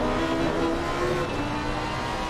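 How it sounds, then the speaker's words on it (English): Race car engine in the Assetto Corsa Competizione game, heard from onboard at Misano, a steady loud drone with sustained engine tones and no talk over it. "Let's listen to what it sounds like inside of that car."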